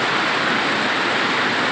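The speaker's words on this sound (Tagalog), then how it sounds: "Pero buhos lang po siya ng ulan." Dense, steady roar of heavy rain pouring down, a constant hiss with no breaks and no voices.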